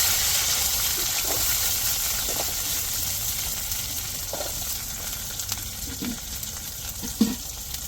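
Curry leaves and chopped shallots frying in hot oil, a steady close sizzle with scattered pops and light stirring clatter, no voices.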